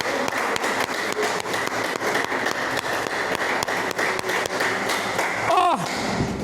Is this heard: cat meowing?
no